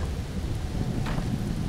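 Rain falls in the video game Mr Prepper as a steady hiss with a deep rumbling undertone. The sound stays even throughout, with a brief brighter patter partway through and no speech.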